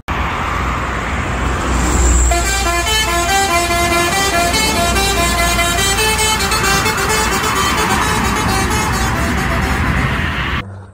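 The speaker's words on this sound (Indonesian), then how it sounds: "kali ini ada bus Pahala Kencana" A Pahala Kencana coach bus passes on a busy road with a loud musical multi-tone horn sounding continuously for several seconds over traffic rumble, then stopping abruptly.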